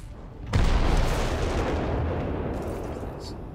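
Heavy howitzer artillery fire in the Company of Heroes 3 strategy game: a sharp, loud boom bursts in suddenly, then a long rumbling roar of sustained battle noise continues without pause.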